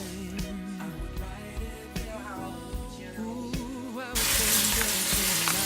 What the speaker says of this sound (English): we are going to season our greens with it. We're going to just let that cook.